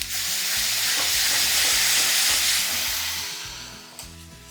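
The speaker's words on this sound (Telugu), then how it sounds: "ఇప్పుడు ఇందులో మనం కొంచెం టమాటో ప్యూరీ వేసుకోవాలి." Tomato puree sizzles loudly in a hot kadai pan for kadai paneer masala, a steady bright hiss with stirring scrapes that eases slightly near the end.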